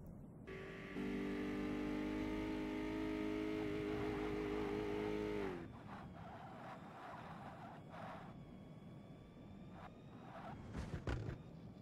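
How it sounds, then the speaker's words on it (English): Mustang engine in Forza Motorsport revving hard, a loud sustained high-pitched engine whine that holds and then cuts off midway, followed by quieter game ambience and faint engine noise. "the only time you can ever hear the engine noise in this car is when you're revving the absolute arse off of it"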